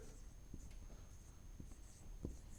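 A pen or chalk scratching out a maths equation on a board, soft taps and strokes in an irregular rhythm, faint and close in a quiet room.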